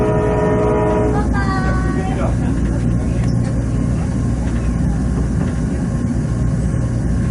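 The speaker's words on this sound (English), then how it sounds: "There is the Amtrak Cascades train coming in under Highway 99 East" An Amtrak Cascades passenger train arrives under Highway 99 East near Albany, Oregon, a steady loud rumbling roll with a brief high squeal of brakes or horn early on, heard close and continuous without speech.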